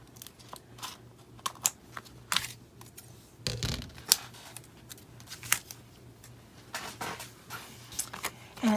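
Scissors snip through laminated paper while making planner notes, a series of short crisp cuts in irregular rhythm, close and fairly quiet, with some handling rustle between snips.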